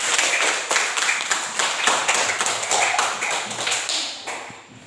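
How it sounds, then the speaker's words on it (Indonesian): Schoolchildren in a fourth-grade classroom clap together for a classmate, a brisk, rhythmic burst of hand claps repeating steadily and fairly close throughout. "berikan tepuk tangan untuk Gibran."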